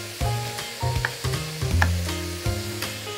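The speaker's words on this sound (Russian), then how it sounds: "На максимальном огне мы сейчас готовим, чтобы овощи у нас все-таки поджаривались, а не тушились." Diced vegetables, including pepper, fry over maximum heat in a pot while being stirred, giving a close, crackling sizzle with short bursts and scraping that recur every half second or so.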